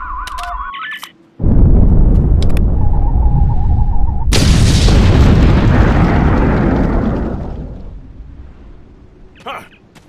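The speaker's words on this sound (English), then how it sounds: "Fire in the hole!" An explosion in the Star Trek Online game, a loud close blast that rumbles on, then a second heavier burst whose roar slowly dies away, with electronic game tones before and after.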